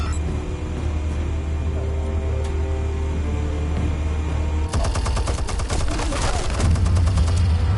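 Gunfire in a PS4 video game breaks out halfway through as rapid, loud automatic bursts of closely spaced shots, after a steadier stretch of low game rumble.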